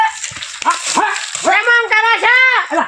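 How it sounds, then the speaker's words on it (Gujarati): A dog barks and yips in a household setting, a few close, sharp bursts with whimpering tones mixed among them. "કૂતરું આવ્યું"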